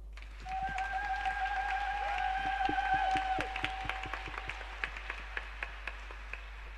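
A church gathering's audience applauds in acclaim of God for Roland Ouattara; scattered claps under a sustained tone thin out into a few separate, fairly faint claps.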